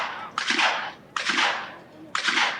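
Shotgun volley in a 1996 team clay-shooting competition: three sharp bursts of overlapping shots about 0.9 seconds apart, loud and close, with no talk.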